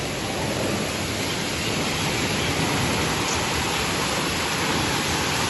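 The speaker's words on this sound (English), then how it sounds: "Over here there's a little river going down to the ocean." Steady broadband rushing of a small rain-swollen river flowing toward the ocean in the Seychelles, loud and continuous throughout, close by.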